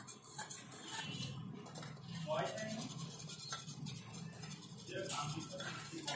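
A spoon works curd into simmering kadhi in a cooking pan, producing steady scraping and soft clinking against the metal across the whole stretch, with a voice talking over it.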